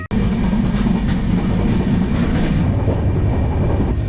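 A train rumbles steadily along the rails on an overnight journey from Bengaluru to Mathura, a loud continuous clatter heard from inside a nearly empty carriage with no pauses.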